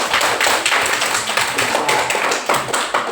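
A class of schoolchildren clapping hands together in a primary classroom, loud and close, with claps landing in a rhythmic patterned sequence of repeated bursts rather than loose applause.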